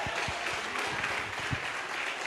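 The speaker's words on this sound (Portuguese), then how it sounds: "Isso, amado, aplauda o Senhor." A church seminar audience applauds in a steady, diffuse wash of clapping that fills a reverberant room, with a few low thumps rising above the continuous patter.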